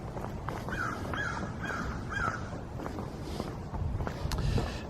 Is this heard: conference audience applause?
no